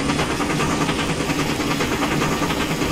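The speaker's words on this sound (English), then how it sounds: "I don't like the blending on the chuff sounds" Steam locomotive chuffing from a TPR/AVTCo E-2 4-6-0 in Trainz 2019, a dense continuous exhaust roar with a steady rapid pulsing rhythm, loud and close, no voices.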